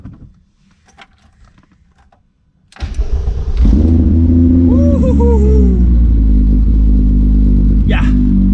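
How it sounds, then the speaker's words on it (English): Cold start of a race car after a Nurburgring off-track excursion: quiet background, then the starter catches and the engine fires loudly at about three seconds, settling into a high, rough idle with a brief blip near the end. "We'll go ahead and get us a proper cold start, make sure she still lives"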